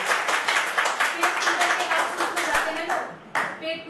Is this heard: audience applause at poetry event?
yes